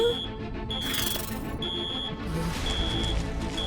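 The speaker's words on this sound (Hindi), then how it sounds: "ये लो जी, अलार्म बजने लगा।" An alarm beeps and rings in repeated bursts with a steady electronic tone, loud and insistent over a busy, noisy background.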